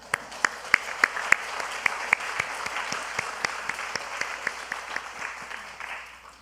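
A church congregation applauds during Sunday service announcements for members departing as missionaries to Uganda, a steady bed of clapping with sharp individual claps standing out, loud and close, with no talk over it.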